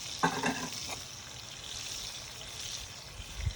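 Scallions and serrano chili fry in a pan alongside tomato sauce and shrimp, giving a steady hissing sizzle, with a few soft scraping and clinking stirs near the start.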